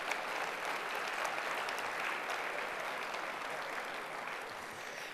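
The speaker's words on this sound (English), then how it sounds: "So please give them a round of applause." Sustained applause from a lecture audience, a dense wash of many hands clapping at steady volume that fades slightly toward the end, with no speech over it.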